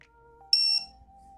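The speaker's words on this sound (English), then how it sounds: "it's gonna beep at me for a while now" A handheld FPV drone electronics board beeps once in a short, loud, steady tone, with a faint lower hum before and after it.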